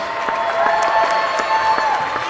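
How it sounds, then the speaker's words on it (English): A gym crowd applauds at a boys high school basketball game: a steady wash of hand clapping and crowd noise with a few sharp claps standing out. "Let's give her a round of applause."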